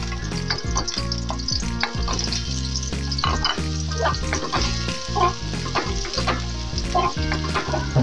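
Garlic fries in oil in a wok for a chop suey, a continuous crackling sizzle with occasional stirring scrapes, partly masked by prominent background music.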